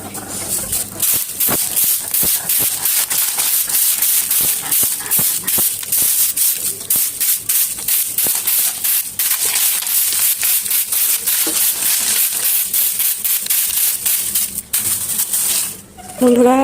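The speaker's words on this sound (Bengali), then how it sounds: "এই যে আমি সিঁড়িটা এখন ঝাড়ু দিয়ে নিব" A broom sweeping a staircase at home: a steady, close run of brisk scratchy strokes lasting about sixteen seconds, dense and rhythmic, with a brief pause near the end.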